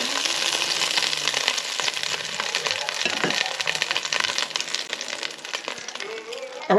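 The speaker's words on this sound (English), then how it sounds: "I'll start browning off all the veggies. The onions and the carrots" Onions, carrots and garlic browning in a hot pan with a loud, steady, close sizzle that crackles continuously throughout.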